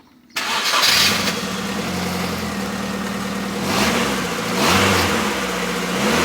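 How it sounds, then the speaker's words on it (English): A car engine with a leaking exhaust cranks and fires, then runs rough and loud up close, with a couple of light revs swelling the note. "if I start the car now, you might just hear the exhaust on the camera"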